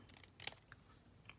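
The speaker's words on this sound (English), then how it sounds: "And then I'm going to take my scissors" Scissors trimming a piece of stamped paper for a card sentiment, a few quick quiet snips close by in a soft, brief burst, with no talking.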